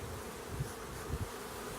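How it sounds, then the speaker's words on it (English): Honey bees swarm around an open hive as the keeper works them with smoke, giving a steady, low, droning buzz that holds evenly throughout, moderately close and fairly quiet. "I'm gonna chase some of these bees down with smoke"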